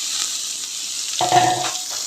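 Red amaranth greens tipped into hot oil with fried chilli and garlic, a steady hiss that jumps into a louder burst of sizzling as the greens hit the pan.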